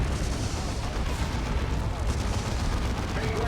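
Orbital bombardment strike in the Dawn of War 2 video game, Space Marines against Ordo Malleus, a continuous barrage of heavy booming blasts and rumbling explosions, loud and dense throughout.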